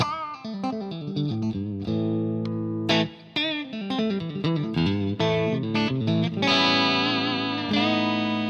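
An electric guitar through a Rectifier amp and cabinet preset on a Fractal unit plays a lively melodic line with sustained, slightly distorted notes and a touch of reverb, steady and loud with no voices.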